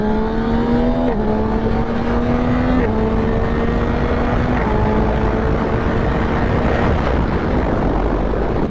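Yamaha MT-09 naked motorcycle engine revving and pulling through gear changes while riding, a loud steady drone rising in pitch with several distinct shift drops, wind rush underneath, no talking.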